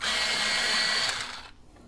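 A colored pencil with a sparkly tip is sharpened in a pencil sharpener, giving a steady, close grinding whir for about a second and a half that cuts off abruptly.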